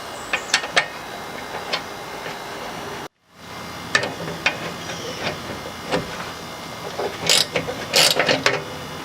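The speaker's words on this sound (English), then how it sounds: "we're gonna loosen this bolt right here. I think it's probably should be like 12mm" A hand ratchet working on a 12mm bolt on a Kia Forte: close, crisp clicking bursts in short irregular runs, broken by a brief silent gap, then more clustered ratcheting clicks.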